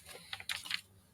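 Quick, light taps on a computer keyboard, a short burst of several keystrokes close to the microphone with no talking.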